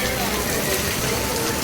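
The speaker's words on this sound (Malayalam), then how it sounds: "2ാം ദിവസം നല്ല മഴയാണ് ഗൈസ്" Steady heavy rain in Trivandrum, a dense even hiss of falling water that holds without a break from start to finish and covers the whole clip.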